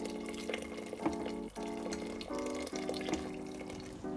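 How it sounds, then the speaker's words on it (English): Boiling water pours into a pot of washed lentils with vegetable stock powder, a continuous close splashing stream that breaks briefly a couple of times and has no talking over it. "Add in your washed lentils, the boiling water, and whatever stock powder you use"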